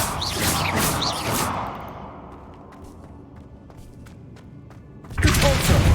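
In the Hogwarts Legacy video game, a Flipendo spell strikes objects, heard as a loud whooshing burst that fades into quieter scattered knocks and clatter, then another loud impact swell at the end.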